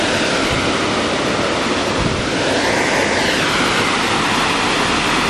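Upper Chetek Falls pours in a loud, continuous broadband rush of falling water close by, steady and unbroken, with no voices.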